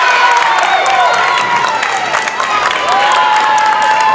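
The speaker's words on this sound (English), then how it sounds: "And that crowd is going crazy" A high school varsity boys' basketball crowd roaring and cheering in a gym during a tense late-game moment, sustained loud shouting with whistles and sneaker squeaks, close and unbroken throughout.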